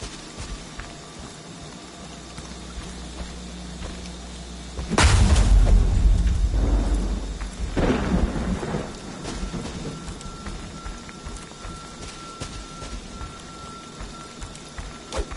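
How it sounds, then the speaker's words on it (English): Rain and thunder in a Friday the 13th video game: a steady patter of rain runs throughout, broken around the middle by a loud, close thunderclap and its rolling rumble, then a second lighter crack as the rain continues alone. "As it now begins to rain."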